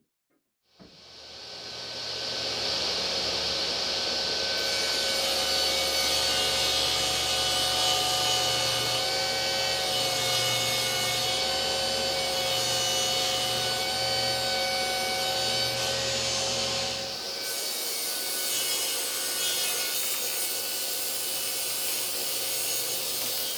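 A saw cuts a rabbet along a maple veneer plywood cabinet side panel, a loud, steady whine sustained for about sixteen seconds before the cut finishes and the blade spins on.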